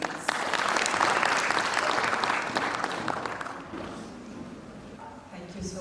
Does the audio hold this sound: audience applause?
yes